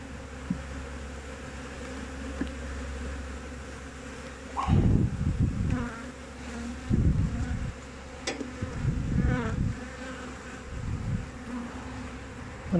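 Honeybees from a strong hive buzz with the box open, a steady close-up hum that swells louder in several bursts as frames are handled, with rustling movement around it.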